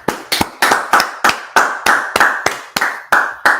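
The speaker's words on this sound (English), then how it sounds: "let's clap it up" A group claps in unison, about a dozen sharp, loud claps in a steady, even rhythm, close by with no voices.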